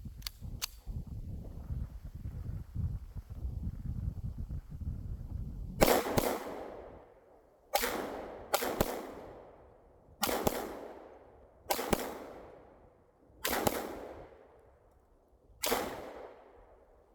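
Handgun shots fired at a shooting range while testing an Olight Osight red dot optic, six sharp loud reports spaced about two seconds apart, each with a decaying echo, after a stretch of low rumbling handling noise.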